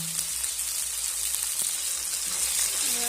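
Ginger, garlic and green chili paste hitting fried onions in a frying pan for a prawn curry, giving a steady, bright sizzle with soft stirring scrapes, close and continuous.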